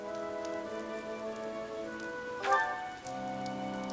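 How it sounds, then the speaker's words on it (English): Heavy rain hisses steadily across a battlefield in Fire Emblem Three Houses, layered under sustained game music with a brief swell midway, no voices. "The rain is really coming down now."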